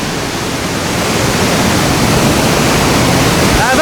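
Water at Elephant Waterfall in Dalat roars in a loud, constant, close rush of falling spray and crashing flow that fills the whole moment without a break.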